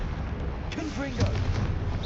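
The Confringo explosive spell cast in the video game Hogwarts Legacy: a dense, booming burst over constant rumbling game noise, with a voice speaking briefly in the middle.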